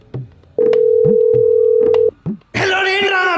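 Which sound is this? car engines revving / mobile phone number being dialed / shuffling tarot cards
mobile phone number being dialed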